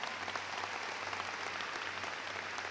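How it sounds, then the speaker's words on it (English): Applause from a crowd at a university commencement ceremony, steady clapping heard from a distance, fairly faint, with a low hum underneath. "give her that round of applause"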